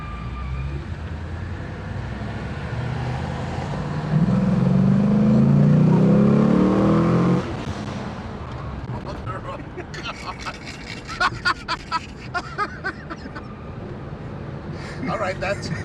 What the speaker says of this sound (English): this is Corvette LS3.